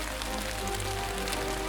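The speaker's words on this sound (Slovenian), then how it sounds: "Odpreva okno in na najine dlani se vsujejo debele dežne kaplje." Big, heavy raindrops fall steadily onto a surface, a continuous dense patter heard close by with no voices.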